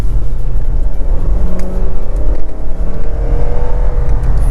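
A Lexus IS250 engine revs while driving, a loud, close, continuous engine drone with rising tones as it pulls, heard from the cabin without speech.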